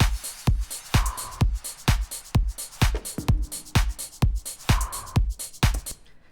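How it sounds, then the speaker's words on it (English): A house drum beat plays a steady four-on-the-floor kick with crisp hi-hats and light percussion between hits, a looping groove heard on its own at a consistent level. "a little house drum beat, sounds like this."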